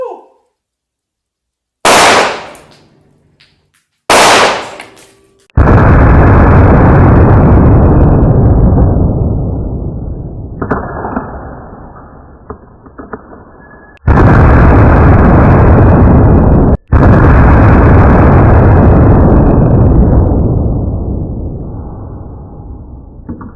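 CZ P226 pistol shots fired at a smartphone, heard as two sharp, loud cracks followed by long roaring booms with drawn-out decays, slowed down to a deep rumble.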